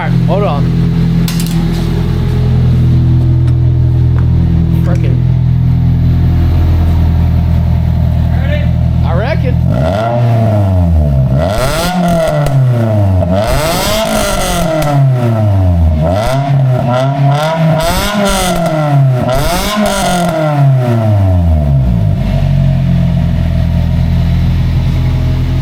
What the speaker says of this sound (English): I'm gonna rev it up some.